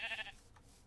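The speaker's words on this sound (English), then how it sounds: "there's sheep over there" A Minecraft sheep gives a single short, wavering bleat, faint and somewhat distant, followed by quiet game ambience.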